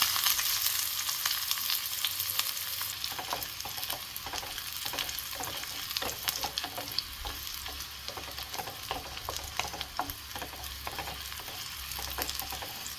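Steady hissing sizzle of onions frying in ghee, with soft stirring scrapes throughout, fairly quiet and continuous with no voices.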